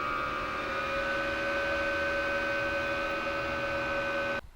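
A 2014 Promaster 2500 camper van's heater fan runs steadily through its shutdown cool-down, a constant tonal whir that holds level before cutting off abruptly at the end.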